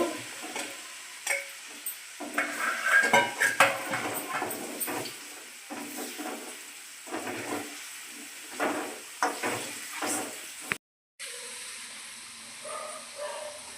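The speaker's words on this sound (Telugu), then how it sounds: "ఇప్పుడు వేయించి పెట్టుకున్నాం కదండి ఈ చికెన్ అంతా వేసేయవచ్చు" Fried chicken pieces go into a pan for chicken pickle, bringing soft sizzling and hiss with scattered scraping, tapping and stirring sounds, close and fairly quiet, ending with a brief cut and quieter sizzle.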